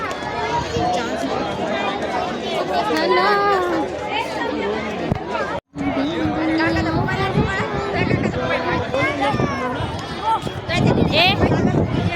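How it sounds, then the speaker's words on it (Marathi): A dense crowd babbles at Echo Point in Mahabaleshwar, many overlapping voices and shouts close and loud throughout, with a brief dropout partway through. "किती गर्दी आहे"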